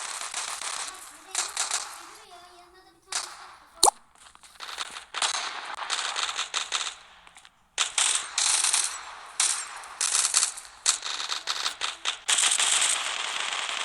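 Gunfire in the online shooter game Zula comes in repeated bursts of rapid, sharp shots with short pauses between them, along with one loud isolated crack, while players talk over the action.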